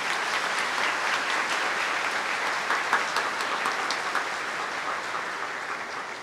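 A large crowd applauds steadily in a church during a confirmation Mass, dense clapping filling the space at an even level throughout.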